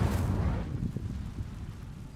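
The Incendio fire spell goes off in Hogwarts Legacy as a deep, rumbling whoosh that starts strong and slowly dies away, with a roaring burst of flame and no talk over it.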